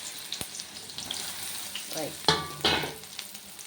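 Soya chunks go into a pan of hot oil with cardamom, fennel, clove and mustard seeds. A quiet sizzle sits under sharp spoon scrapes and clatters, with a couple of louder hissing bursts as the chunks are stirred.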